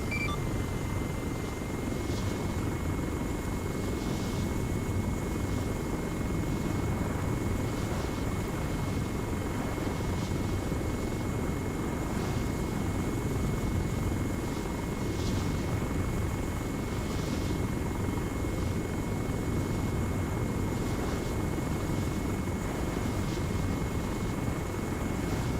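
Chinook helicopter in the game ARMA 3, a continuous, even rotor and engine roar with a faint rhythmic thumping, droning steadily throughout at moderate loudness.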